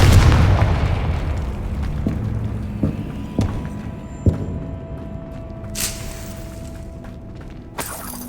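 Explosive Confringo spell cast in Hogwarts Legacy: a heavy booming blast with shattering debris at the start, fading into a rumbling tail, followed by a few sharper pops and bursts across the rest of the clip.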